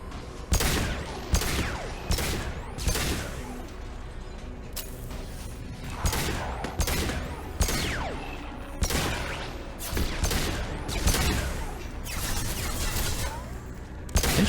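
Rapid bursts of video game gunfire from a sci-fi shooter crackle in repeated volleys across the clip, loud and close, with clanking mechanical sounds between bursts.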